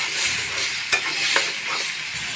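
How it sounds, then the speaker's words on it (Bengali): Potatoes and shrimp sauté in a pan with a steady low sizzle, while a spatula scrapes through them in two brief, distinct strokes. "আলুগুলো দিয়ে আমি 2 মিনিট মতন কষাইছি।"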